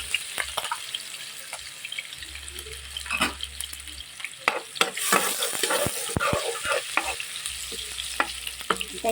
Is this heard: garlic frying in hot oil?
yes